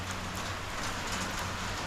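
Heavy rain pours down on a jungle building site as a dense, steady wash of hiss and patter, even and continuous at a moderate level, with no voices.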